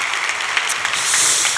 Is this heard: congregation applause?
yes